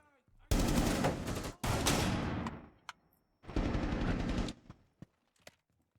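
Automatic rifle fire in Rainbow Six Siege, two long loud sustained bursts with a pause between and a few single sharp shots afterward, close and dominant.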